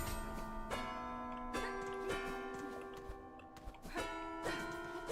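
Tuned bells in the Hollow Knight: Silksong video game ring out in a few separate struck chimes with long, shimmering sustains, layered over a steady background game ambience.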